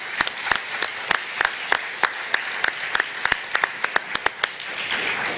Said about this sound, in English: How about a round of applause for everybody who's donated tonight?